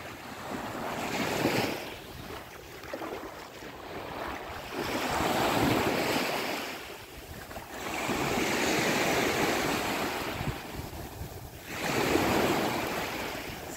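Sea waves wash onto the beach at Port Fouad in Port Said, surging and receding in broad swells every few seconds, with wind buffeting the microphone and no voices.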